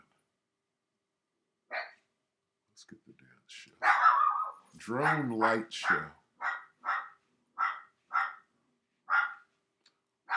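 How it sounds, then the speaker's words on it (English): A dog barks repeatedly in a room, a steady series of sharp, evenly spaced barks near the microphone, mixed with a person talking in between. "My dog right now is being ornery and trying to get me to cater to his will"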